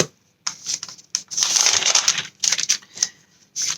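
Paper envelopes handled up close, giving crisp crinkling and rustling in short irregular bursts with brief silent gaps, no talking.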